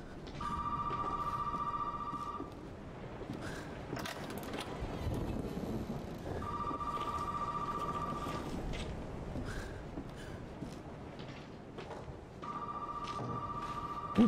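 Telephone ringing in the horror video game Resident Evil 7, three long electronic trill bursts spaced several seconds apart over low rumbling ambience.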